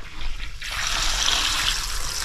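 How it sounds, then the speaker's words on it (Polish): Water pours from a garden hose into a backyard pond, a steady splashing rush that starts abruptly after a quiet moment and continues close and even. "Woda się w szlaufie leje do oczka."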